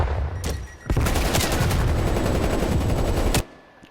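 Rapid automatic gunfire crackles in the video game Call of Duty: Black Ops Cold War, a single shot first, then a sustained dense burst that stops abruptly.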